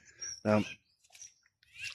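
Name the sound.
song thrush singing near a creek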